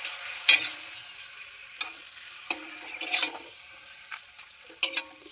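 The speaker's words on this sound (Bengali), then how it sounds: "আমি পাঁপড়গুলো এবার ভেজে নিচ্ছি প্রথমে। আর সাদা তেল দিয়ে আমি ভাজছি।" Papad frying in hot white oil crackles in sharp, intermittent bursts over a quiet background, with a few louder spits close by.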